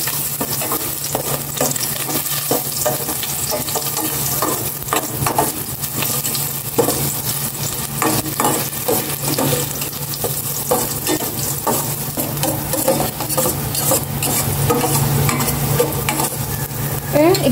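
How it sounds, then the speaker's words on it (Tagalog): Constant sizzling and crackling of ginger sautéing in hot oil, with occasional stirring scrapes, loud and close throughout. "Igisa ko na itong luya."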